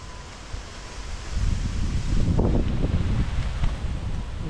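Strong wind buffets an outdoor cooking spot, a low rushing roar that builds after the first second and gusts steadily, close and heavy, with rustling underneath.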